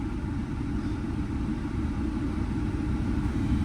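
A car engine runs in a steady, low, rumbling idle, close and even throughout, with no clear revving.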